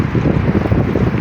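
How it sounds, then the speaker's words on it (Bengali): Loud, unbroken roar of strong wind during a dust storm in Riyadh, buffeting the microphone close up with no voices present. "প্রচণ্ড বাতাস হচ্ছে, প্রচণ্ড বাতাস।"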